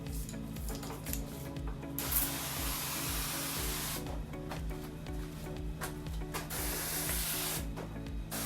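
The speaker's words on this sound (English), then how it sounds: "we'll change this to a super mist spray" A fine super-mist pesticide spray hisses steadily onto Coptotermes termites on shed timber, a continuous close spray with brief pauses under a low mechanical pump hum.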